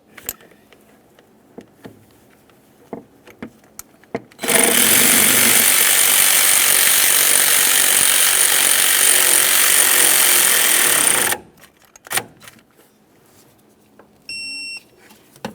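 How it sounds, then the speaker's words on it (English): Loud sustained power-tool rattle on the lower mounting bolt of a 2004-2008 Ford F-150 intermediate steering shaft, running about seven seconds alone between quiet clicks, with a few short beeps near the end. "We can snug our lower mounting bolt."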